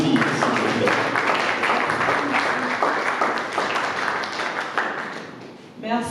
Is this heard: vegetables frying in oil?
no